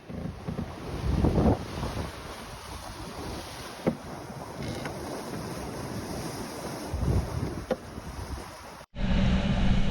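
Racing yacht Hip-Nautic sailing at 12 knots in the Sydney to Hobart race, with steady rushing water, waves against the hull and wind buffeting the microphone, swelling in places and cutting briefly near the end before resuming.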